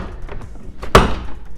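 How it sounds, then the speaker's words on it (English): A Ford Transit front door panel being pulled away, heard as one sharp, loud snap or thunk of plastic releasing, close up, with quieter handling noise before and after. "Just kind of go ahead and pull away from the door panel"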